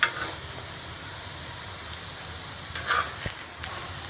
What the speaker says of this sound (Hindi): इसी तरह से मैं दूसरी साइड से भी इसे सेक के पका लूँगी